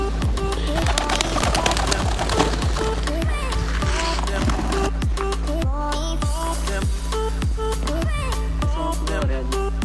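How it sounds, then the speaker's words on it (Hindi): Pigeons coo in low, repeated rounds over steady background clatter and rhythmic tapping, the cooing close and continuous throughout. "ये हमारा बूढ़ा कबूतर है"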